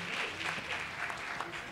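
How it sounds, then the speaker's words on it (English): Applause from the crowd at a Christmas singing gathering greets a state representative called up to the front. It is a steady, fairly soft patter of many hands lasting throughout, with a few voices talking faintly underneath. "Let's give him a big round of applause"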